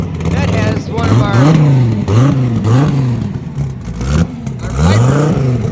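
A drag car fitted with a Viper engine revs loudly and repeatedly in rising and falling bursts at a TX2K event. Someone talks over the engine throughout.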